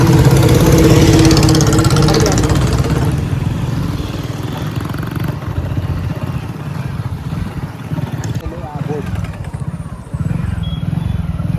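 A motorcycle ride along the Girnar parikrama highway, the engine droning loud and steady with rushing wind throughout, easing slightly after the first few seconds.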